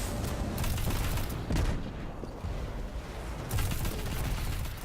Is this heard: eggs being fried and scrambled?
no